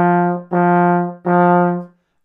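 Three sustained trombone notes, each begun with a crisp 'ta' tongued attack, played at a steady pitch with short gaps between them, close and loud with no talking.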